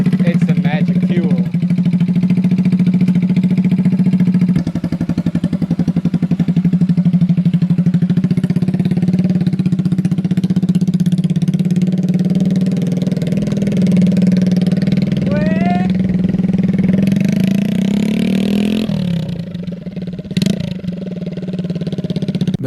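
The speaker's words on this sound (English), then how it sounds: "at least the PBR is moving under its own power" A Skyteam PBR motorcycle engine runs steadily on a road test ride, a constant close low drone with slight revving changes near the end, under a talking voice throughout.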